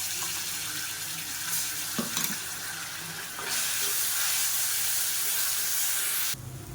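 Sliced onions with ginger garlic paste sizzle steadily in a pan over a low flame while cooking idli biryani, a soft continuous frying hiss that grows slightly louder midway.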